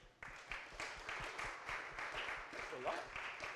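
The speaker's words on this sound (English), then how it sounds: "Clap for the men." Applause from a live audience honoring the men during a marriage-themed talk event, a steady broadband wash of clapping that starts abruptly and holds fairly even, moderately loud, with some voices mixed in.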